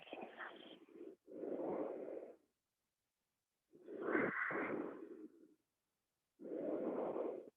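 Deep, smooth breaths during a yoga practice come in slow, audible inhale and exhale phases separated by quiet pauses, close and soft, with no talking.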